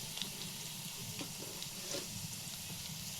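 Onions fry in a pan in a village kitchen with a soft, continuous sizzle and faint crackles, quiet and close, with no talking.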